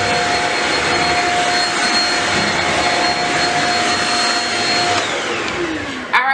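A Shark Rocket vacuum cleaner picks up crumbs indoors with a loud, steady, close-up whine and a constant high tone, then cuts off sharply near the end.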